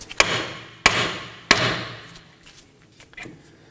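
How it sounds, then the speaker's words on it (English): Three sharp metallic hammer blows strike a car's steering knuckle about half a second apart, each with a brief ringing tail, followed by faint clinks and shuffling. "I'll be striking the knuckle with a hammer"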